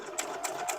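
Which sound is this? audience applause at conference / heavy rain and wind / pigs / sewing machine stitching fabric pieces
sewing machine stitching fabric pieces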